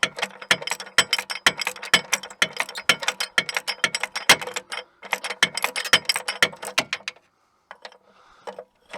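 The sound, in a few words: ratchet removing starter bracket bolts on minivan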